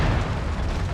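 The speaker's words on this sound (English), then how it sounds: "Oh, 1 missile got through." A missile explodes against a mech in MechWarrior 5, a single loud, rumbling blast that fills the whole moment with deep booming noise.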